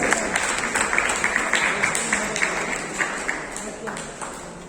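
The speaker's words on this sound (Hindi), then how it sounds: "तालियां बजती रहनी चाहिए" Applause from children at a school prize distribution, a steady crackling clatter of many hands with small sharp peaks, kept up at moderate loudness for the whole stretch.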